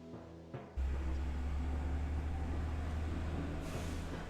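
A heavy truck rumbles past in the background, a loud, steady low-frequency roar that starts abruptly and holds for several seconds with no talk over it.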